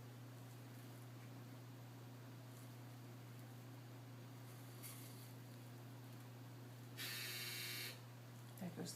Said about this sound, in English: There goes the dryer.